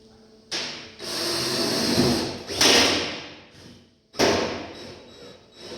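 A power drill drives screws into the sheet metal of a 1948 Chevy truck, loud whirring bursts with a gap and a final short run, close by with no talking.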